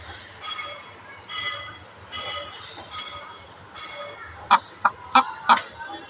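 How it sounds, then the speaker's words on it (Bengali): A hen calls repeatedly, with several loud, sharp squawking clucks in quick succession near the end, after quieter background sounds and murmuring. "সারাক্ষণ এইভাবে ডাকাডাকি করে মুরগিটা।"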